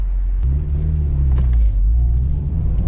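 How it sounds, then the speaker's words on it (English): A Honda Civic with no exhaust fitted accelerates hard, its engine a loud, raw, deep rumble close up that jumps in pitch after a quick shift and then pulls steadily, with no talking. "No exhaust on this car, which makes this probably the rarest Honda on earth."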